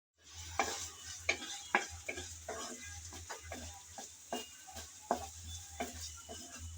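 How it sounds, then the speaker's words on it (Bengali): Chopped onion frying in hot oil, stirred with a spatula: a low steady sizzle punctuated by a series of distinct scraping and tapping strokes against the pan, fairly quiet and close. "পেঁয়াজ হালকা করে নেড়ে নেড়ে ছেড়ে ভেজে নেব"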